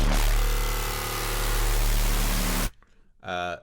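A heavily distorted drum and bass 'welder' bass synth, resampled in Vital, roars as a loud, dense, gritty sustained tone that cuts off abruptly, followed by a short resonant synth stab.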